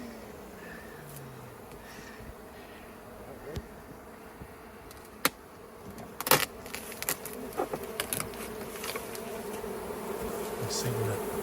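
A swarm of honey bees in comb inside a house's outside wall hums in a constant close drone during a cutout, with sharp knocks and clicks from handling scattered over the buzzing.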